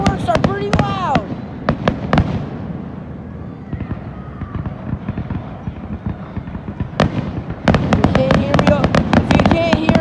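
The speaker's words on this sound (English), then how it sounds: "Because the fireworks are pretty loud." Repeated fireworks explosions from a grand finale pop in quick clusters, easing briefly midway and then surging into a dense volley of loud bangs, with a voice talking close by over them.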